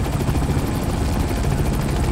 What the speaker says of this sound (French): Putain d'hélico, ça c'est le pire.